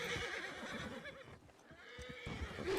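Horse whinnying inside a Wild West roleplay video game, a bright neigh over soft rustling and a few muffled hoof-like thumps, moderately close with no talk.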